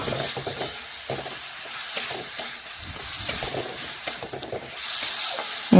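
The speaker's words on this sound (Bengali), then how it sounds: "এখন সমস্ত কিছু একসাথেই মশলার সাথে কষিয়ে নেব" Fried cauliflower and potato pieces stirred together with spices in a pan, a steady close sizzle with repeated scraping and clatter of the spatula throughout, no voices.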